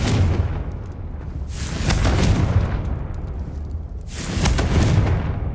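In Hogwarts Legacy, the Confringo fire spell sets off big, rumbling explosions with booming low-end blasts. There is a sustained roar, then a second heavy burst partway through.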